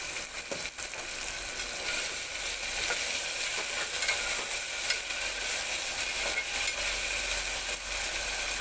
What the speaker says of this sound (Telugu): టమాటా ముక్కలు మగ్గడానికి కొద్దిగా సాల్ట్ వేసుకున్నామండి